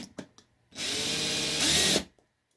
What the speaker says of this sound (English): A little thumb pressure, pull the trigger on the drill,